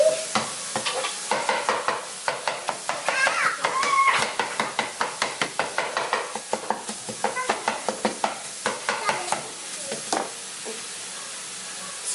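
Ground beef taco filling sizzles and fries in a pan, with repeated rhythmic scraping and stirring strokes of a utensil across the pan throughout, loud and close, with no talk over it.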